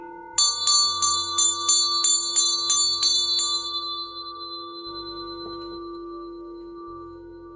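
A Tibetan ganta ritual hand bell rings out in about eight quick, evenly spaced strikes. A bright sustained tone lingers and slowly fades beneath a steady low drone.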